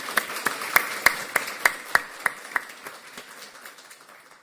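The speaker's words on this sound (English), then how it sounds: "so let us clap for these people" Audience at a conference opening plenary in Athens claps, a burst of distinct hand claps in a steady rhythm that thins and fades out over a few seconds, moderately distant and without talk.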